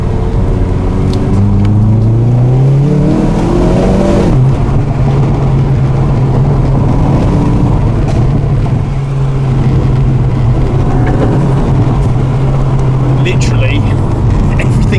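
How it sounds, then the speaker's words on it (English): A Hyundai i30 N hot hatch engine drones steadily and loudly under boost, its revs climbing then holding in a sustained exhaust roar, with a voice talking over it. "The exhaust goes loud as I've ever heard it."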